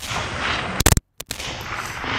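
A single loud rifle shot rings out on a long-range coyote hunt, a sharp close crack followed by a short echo, set against steady outdoor wind noise.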